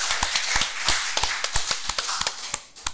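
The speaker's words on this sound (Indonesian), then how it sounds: "tepuk tangan" Sharp, irregular hand claps and taps ring out close and dry in a quick scattered series, a small burst of applause with no voices over it.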